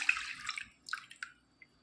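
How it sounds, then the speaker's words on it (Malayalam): Mango brine water pours into a kitchen vessel while making a Kerala cut-mango pickle, giving a brief, faint spatter of splashes and drips that trails off into quiet. "ഈ എടുത്തു വച്ചിരിക്കുന്ന മാങ്ങാ വെള്ളം കുറച്ച് ഈ പാത്രത്തിലേക്ക് ഒഴിച്ചു കൊടുക്കാം."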